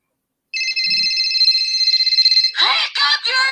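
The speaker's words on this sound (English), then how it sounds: "Pick up your phone! Can't you see it's ringing?" A phone rings with a steady electronic trill for about two seconds, loud and close, then ring bursts overlap with a voice talking excitedly.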